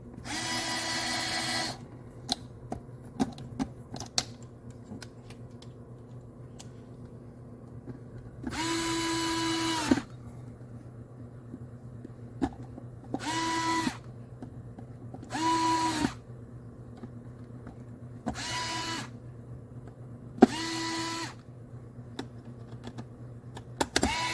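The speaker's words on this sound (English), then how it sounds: "And we're gonna tighten these up." A power drill drives screws tight on an iRobot M6 mop during a repair, in about six short whirring bursts of one to two seconds each, separated by quieter pauses with small clicks and handling noises.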